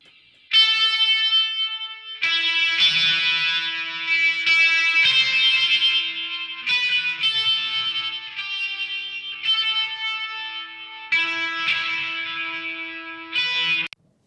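Loud distorted electric guitar chords through a Marshall-type amp simulation ring out with sustain, separated by short pauses between phrases.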